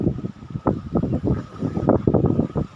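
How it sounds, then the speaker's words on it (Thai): Strong storm wind gusting over a rough sea during a summer storm, a loud continuous roar with buffeting microphone rumble that swells and surges throughout, alone without speech. "เอาไว้โชว์ดูครับความแรงของลมนะครับ แรงแรงนะครับ"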